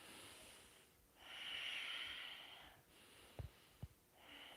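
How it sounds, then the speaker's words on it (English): Slow, deep breaths during a flowing yoga practice: a long, soft airy exhale, then quieter breathing with two brief sharp sniffs near the end, close and alone. "A couple more breaths."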